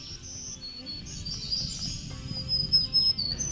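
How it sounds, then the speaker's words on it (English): A black-throated green warbler sings high in the forest treetops of the Carolinas: thin, high buzzy phrases repeated against a soft hum of insects, moderately distant and clear with no talking. "that song belongs to the black-throated green warbler"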